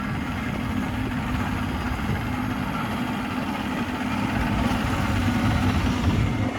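A 1988 Wellcraft V20 open center console boat's engine runs steadily with its trim motor operating, a continuous low droning rumble, moderately loud and unbroken, with no talking.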